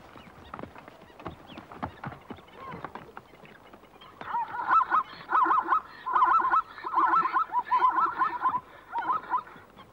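Blacksmith plovers at a waterhole give repeated sharp metallic clinking calls in rapid bursts, fairly close, following scattered clicks and rustles, with no talk.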